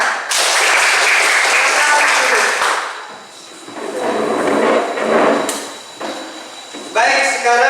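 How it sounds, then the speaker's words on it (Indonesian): A class claps loudly for a few seconds, the applause fades, then swells again in softer rounds before a final short flurry. "Semuanya benar. Tepuk tangan."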